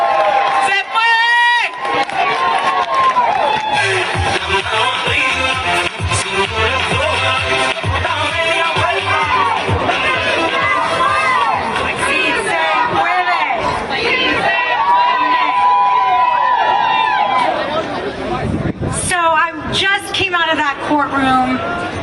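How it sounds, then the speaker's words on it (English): A large crowd outside the Supreme Court roars with cheers and whoops, then loud chanting, dense and continuous with shouting voices near and far. "Let's give it a huge round of applause."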